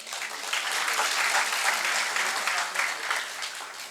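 An audience claps at a Punjabi University talk, a broad, steady wash of many hands applauding at moderate loudness for the full few seconds, with faint crowd murmur underneath.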